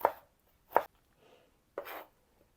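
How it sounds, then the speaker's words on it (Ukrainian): Three crisp knife cuts slicing cucumbers into thin strips on a board, spaced irregularly, close and fairly quiet, with near silence between them. "Нарізаю огірки, також такими, бачите, тоненькими смужками"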